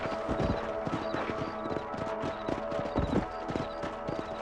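Horse hooves clip-clop in a steady walking rhythm in Red Dead Redemption, close and clear with no talking.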